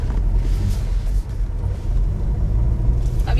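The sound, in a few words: car pulling away as clutch is released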